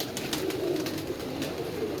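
Pigeons coo softly in a loft, a low murmuring call that continues steadily with faint rustling around it and no talking.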